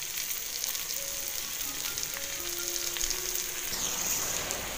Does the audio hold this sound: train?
no